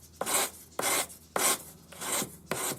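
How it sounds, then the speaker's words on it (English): A sanding stick wrapped in 400-grit wet-or-dry sandpaper smooths a solder joint on a forged ring in five even, rhythmic rasping strokes, close up and with no talking. "I'm using 400 wet or dry sandpaper on a sanding stick. And I'm going to tidy up the solder joint."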